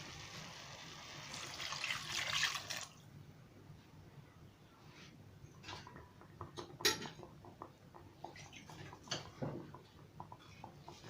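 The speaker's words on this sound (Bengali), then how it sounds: "এবারে জল দিয়ে দিলাম।" Water splashes into a cooking pot in a short, fairly quiet rush lasting about three seconds, followed by faint clinks of utensils and kitchen movement.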